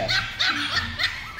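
Pomeranian puppies yip in four short, high barks at a fairly steady pace, close by with no talking.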